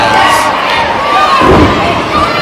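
A wrestling crowd at an indoor independent show cheers and roars loudly and steadily throughout, with a swell of noise and a thump midway, as a wrestler taunts the audience.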